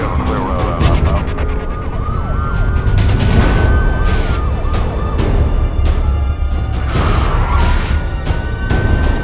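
A police car siren wails loudly in rising and falling sweeps during a code 3 traffic pursuit in Abu Dhabi, over road and engine noise.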